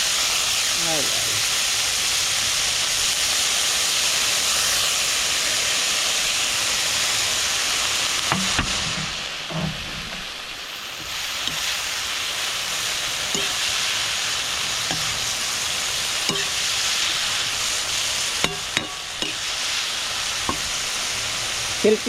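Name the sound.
sautéing pako fern with mushrooms in a pan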